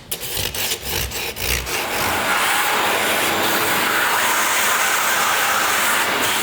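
Sandpaper roughs up a damaged wooden interior window sill to strip old paint, first in several quick close scratchy strokes, then in a steady continuous rubbing that carries on to the end.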